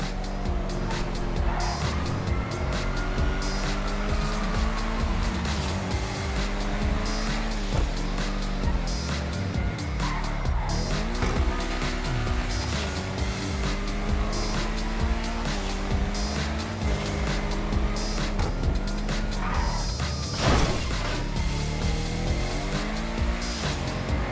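Car engine revving and shifting in Grand Theft Auto V, with repeated rising and falling engine notes and frequent tire squeals and skids throughout a fast, continuous drive.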